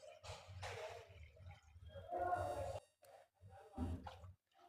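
Water is poured in several separate splashing bursts into a pot of moong dal for sambar, close and fairly quiet, with short pauses between pours.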